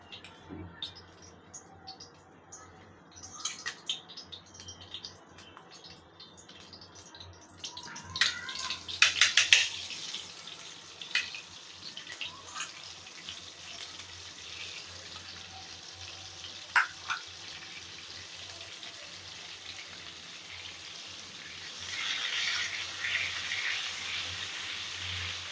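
Oil and butter heat in a pan for masala pav, giving a steady low sizzle with scattered crackles and a few sharper clinks around the middle, then a brighter hiss building near the end; no talking.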